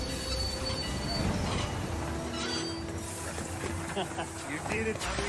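A passenger train rolls along the rails with a steady, loud squeal of wheels and a dense mechanical rumble, and voices can be heard faintly beneath the noise.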